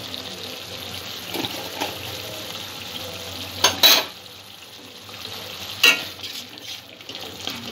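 Turmeric, cumin and coriander powders being stirred together in a frying pan, with a continuous soft scraping and sizzle and a few louder clinks of the spoon against the pan, no talk.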